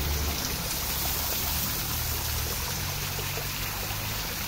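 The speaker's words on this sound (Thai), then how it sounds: "นี่ตรงนี้ก็จะเป็นน้ำตกนะครับ" An artificial waterfall inside a cafe pours steadily, giving a continuous, even rush of splashing water that stays close and fills the whole stretch with no talk.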